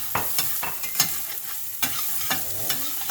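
Dan Dan noodle ingredients are stir-fried in a hot pan, making a loud, continuous sizzle with repeated scraping strokes of a utensil at an irregular rhythm.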